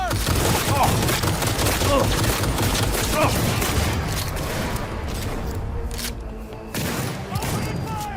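Rapid bursts of gunfire erupt during Cyberpunk 2077 gameplay, a dense fusillade of sharp shots and booms that eases off, with in-game voices speaking between the volleys.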